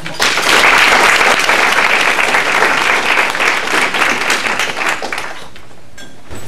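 An audience at a university kick-off reception applauds to welcome a speaker, with loud, dense clapping that holds steady for about five seconds before fading out.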